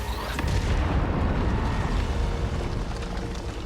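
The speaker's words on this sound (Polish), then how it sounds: "coś tu sobie agencja wybuchnęła" A huge explosion at the agency during a Fortnite live game event, a dense sustained boom and rumble filling the whole moment, loud with no clear beginning or end.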